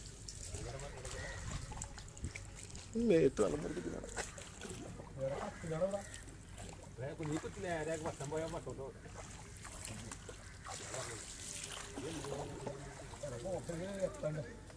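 Something moves through deep floodwater in Kerala, giving sloshing and trickling water sounds at low level as people talk over it throughout.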